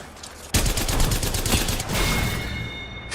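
Loud bursts of rapid video game gunfire erupt after a brief quiet start while the player comes under attack, forming a dense, continuous volley with a few high electronic tones near the end.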